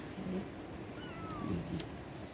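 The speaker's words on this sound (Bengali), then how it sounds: "মিউ করে ডাকছে ভাবছে মা এসছে" A bottle-fed newborn kitten, its eyes just opened, calls for its mother with a thin, faint high meow, heard once or twice against a soft background hiss.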